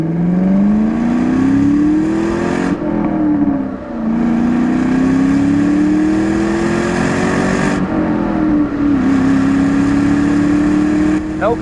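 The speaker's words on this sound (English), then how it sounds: "This is a 1996 Ford SVT Cobra in Mystic paint" A 1996 Ford SVT Cobra with a 4.6 V8 and five-speed manual accelerates hard, its engine note climbing through several gears with brief dips at each shift, loud and close from inside the car.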